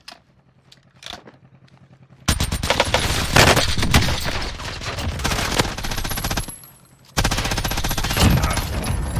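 Rapid automatic fire from a nailgun and an MG-82 in a shooter video game, a sparse few shots first, then long dense bursts of close, loud rattling with a brief pause between.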